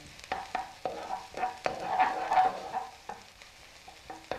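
Garlic fries in oil in a pan with a soft, steady sizzle, broken by occasional stirring clicks and scrapes, close and fairly quiet.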